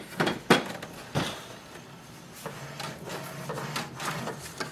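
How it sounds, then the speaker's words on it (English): Paper tray of an HP DeskJet 2734e printer opened by hand, a few sharp plastic clicks and knocks followed by softer sliding and rubbing, close and fairly loud, no talk. "Open the paper tray."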